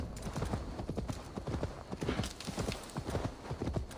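Horse hooves gallop in Assassin's Creed Valhalla, a fast, continuous clip-clop of hoofbeats heard up close and steady for the whole stretch.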